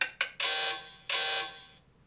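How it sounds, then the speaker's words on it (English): Timer buzzer of a Catch Phrase game unit, a series of harsh electronic buzzes: two short blips, then two longer sustained blasts, fairly close and alone. "When the buzzer sounds,"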